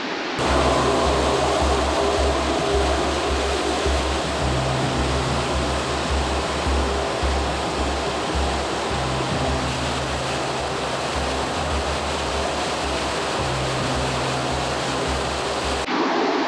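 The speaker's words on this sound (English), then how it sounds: "Here is the waterfall." A waterfall seen from an overlook at Crested Butte roars as a steady, broad rush of falling water that fills the scene continuously without pause.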